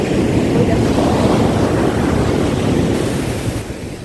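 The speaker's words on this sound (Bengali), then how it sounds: "এই দেখো বড় একটা ঢেউ আসছে" Big ocean waves surge and break at Mattu Beach, a loud, continuous wash of surf filling the air up close and fading slightly toward the end.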